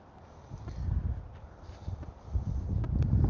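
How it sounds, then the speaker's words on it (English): Wind gusting past a microphone outdoors, a low steady rumble that swells and buffets, strongest toward the end, with faint scattered rustling and no talk. "A little windy today."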